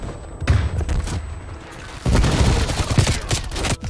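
Bursts of gunfire in Black Ops Cold War, with sharp volleys of shots and thuds in two loud clusters, close and heavy, and faint talk beneath.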